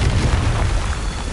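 Confringo fire spell explosion in Hogwarts Legacy, a loud, rumbling boom with heavy low-end roar sustained through the short moment, close and dense.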